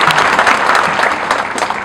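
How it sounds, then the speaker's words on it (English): A crowd at a refugee gathering applauds His Eminence, with loud, dense, sustained clapping from many hands close by, steady throughout without pause. "Let us clap again for His Eminence."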